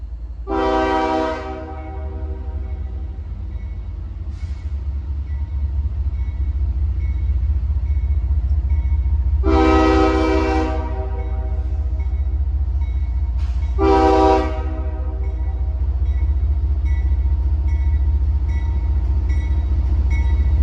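A CSX freight train approaches a neighborhood road crossing, its horn sounding in three loud blasts, the first and last short and the middle one long, over a continuous deep rumble of the moving train.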